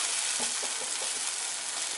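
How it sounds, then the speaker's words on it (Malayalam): Oil for Kerala-style mango pickle bubbles and sizzles steadily in a pan on the stove, a close, continuous frying hiss with small popping bursts. "ഇപ്പോൾ ഇവിടെ ഇത് നല്ലോണം തിളച്ച് വന്നു"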